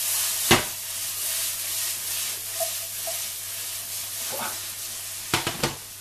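Chipotle chili with its seeds sizzling in a pan gives a steady, faint frying hiss with a few brief clinks and stirring scrapes near the start and end, with no talk.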